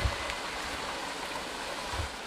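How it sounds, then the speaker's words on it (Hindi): Water flowing steadily past a mountain temple in Uttarakhand, a continuous soft broadband rush with no clear breaks, heard alone at moderate-low level. "क्योंकि यहाँ पे पूरा पानी बहता हुआ है ना।"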